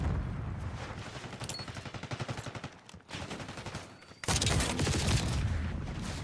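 Frag grenade blast in Black Ops 6 gameplay, a sudden loud burst that cuts in partway through and holds over a dense stretch of rapid gunfire and battle noise.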